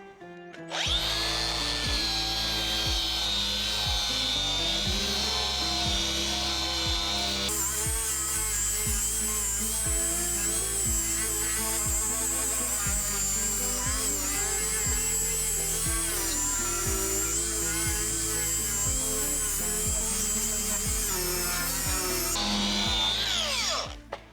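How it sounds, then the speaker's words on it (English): A battery-powered tool spinning a wire wheel scours exposed timber on an old wall of a century-old house under renovation, producing a loud, sustained whirring grind lasting over twenty seconds, its pitch dipping and jumping as pressure changes. "the wire wheel's really good at cleaning up the exposed timber"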